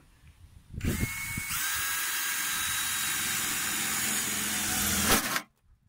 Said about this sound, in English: We're going to drill a hole in the side of the car.